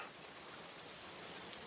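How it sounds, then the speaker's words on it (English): Gentle, steady rain falls without a break, a soft broadband hiss that holds at a constant low level and is heard alone. "the rain starts to fall a little more gently and slow down, and it eventually stops"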